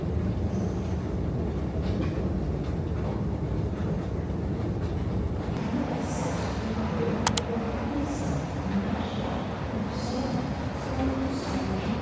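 Steady rumbling rail noise inside a moving overnight sleeper train in Sweden, a continuous low roar with faint rattles and a brief high squeal midway, no talking.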